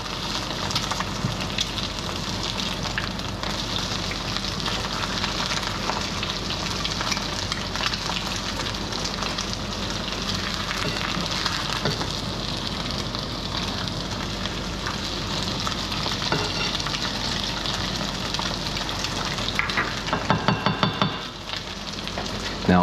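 Eggs fry in a pan with a dense, continuous crackling sizzle, loud and close, holding steady for over twenty seconds before a brief scrape near the end.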